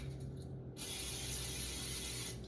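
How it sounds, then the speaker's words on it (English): Cooking spray hisses onto the bottom of a pan for homemade chicken and dumplings: a steady, close, loud spray that starts abruptly and runs without a break for nearly two seconds, over faint background hum. "first thing I'm going to do is I'm going to spray the bottom of my pan."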